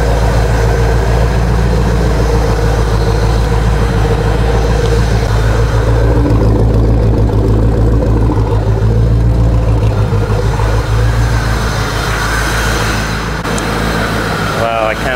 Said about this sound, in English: First crank, starts in the first crank. It's already at 800 RPM idle.